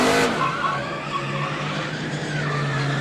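A NASCAR stock car spins out in practice, tires squealing and skidding in a sustained, fairly distant screech with engine noise underneath, fading as the slide goes on.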